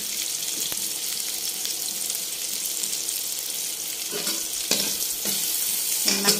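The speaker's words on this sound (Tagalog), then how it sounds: "magigisa muna tayo ng luya at saka bawang at red onion." Ginger, garlic and red onion sautéing in a pan, a steady close hiss of frying with a few louder crackling bursts toward the end, with no talking.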